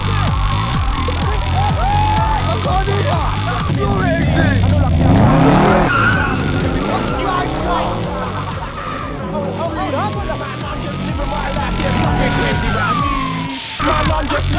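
A stolen car races through a film chase scene, its engine roaring as tires squeal and skid in long sliding sweeps, loud and close, with a siren and a voice-over narrator talking throughout.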